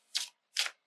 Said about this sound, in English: Sometimes stiff cards will shuffle from the side.